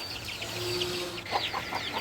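Chickens let out of their coop on a rainy morning, giving a few short clucks and calls close by over a soft background wash.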